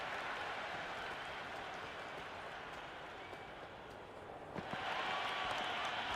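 A crowd in the cricket video game Cricket 26 roars with steady, dense applause and cheering that swells louder near the end, continuous and fairly distant.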